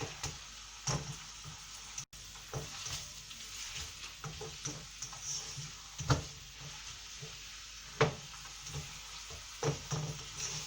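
A pot of Thai vegetable curry bubbles gently on an oven, with a soft steady simmer and occasional louder pops and stirring clacks standing out above the low background.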